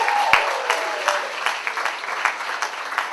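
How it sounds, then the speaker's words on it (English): A comedy club audience applauds a comedian with steady, fairly close clapping that continues throughout, the claps dense and even without cheering or talk. "Mark Beaumont, everybody! Big round of applause."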